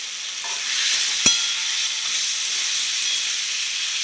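Fried potatoes and green chillies sauté in cooked-down spice masala with a steady loud hiss and sizzle, broken once by a single sharp metallic tap.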